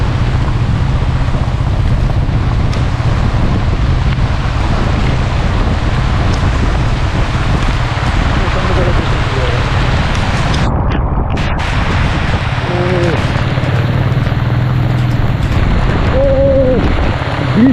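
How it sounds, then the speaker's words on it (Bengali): Rain falls during a motorbike ride through the pine forest hills of Netarhat. It makes a loud, continuous roar of rain and rushing wind that fills the whole stretch. "বৃষ্টি তো আবার চালু হয়ে গেছে"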